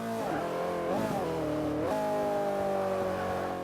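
McLaren P1 engine in Forza 5 revving loudly with three rising-and-falling pitch sweeps as it downshifts, then settling into a steady high drone, close and alone.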